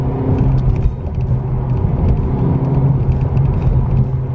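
Honda Civic with the 1.5-litre turbocharged engine accelerating, a steady loud engine drone and road rumble heard from inside the car throughout, with no talking.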